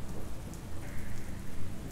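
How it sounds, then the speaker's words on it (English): Steady rain falls during a storm with thunder, a dense hiss of drops over a low rumbling bed, constant and close with no voices. "listening to the storm"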